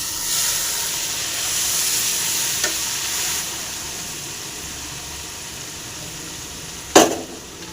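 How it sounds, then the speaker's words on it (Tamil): Hot tempering oil hits gooseberry pickle with a loud, steady frying sizzle that slowly fades, ending in a sharp clatter near the close. "தாளிச்சி எண்ணெயை வந்து ஊறுகாயில் போட்டு சேர்த்தாச்சுங்க."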